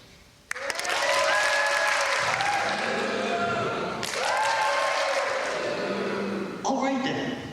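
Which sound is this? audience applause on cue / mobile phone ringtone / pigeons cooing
audience applause on cue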